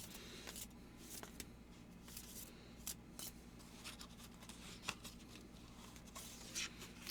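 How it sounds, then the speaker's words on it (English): A large deck of cards is shuffled by hand, quiet and close, with soft riffling rubs and scattered crisp snaps over a faint steady hum, no talking. "I just gotta shuffle for a little while longer"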